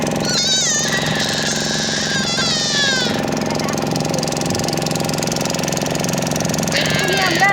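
A boat engine runs steadily on a boat ride, a loud continuous low rumble and drone throughout, with whistling and chattering voices on board over it.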